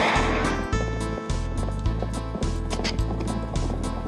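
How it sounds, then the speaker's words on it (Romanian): Rhythmic galloping horse hooves thud in a steady repeating pattern over music, loud and continuous, with no clear neighing standing out. "să chem pe alți căluți ai tăi și toți să nechezați"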